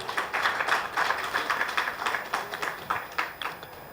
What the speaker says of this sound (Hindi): इनके स्वागत में जोरदार तालियों से